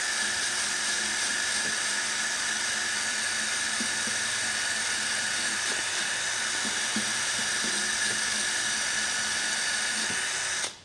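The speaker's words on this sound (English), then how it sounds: "we're going to be predominantly using this right here, which is a wire brush drill attachment" Electric drill spinning a wire brush attachment against a car part during a VW Passat R36 restoration, a steady high whine with faint scraping ticks, continuous and close, then cutting off at the end.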